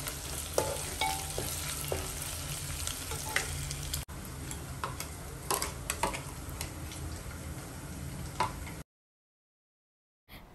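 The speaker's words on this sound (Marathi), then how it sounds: "आलं लसणाची जी पेस्ट बनवली खलबत्त्यामध्ये, तर ती मी तेलात परतून घेते." Crushed ginger-garlic paste sizzles steadily in hot oil for a prawn masala, with a dense close crackle and scattered ticks of stirring, then silence near the end.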